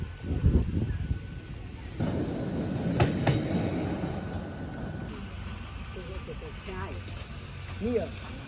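Train running on rails in Busan, heard from onboard as a steady rumble with some clicking and rattling, while someone talks over it.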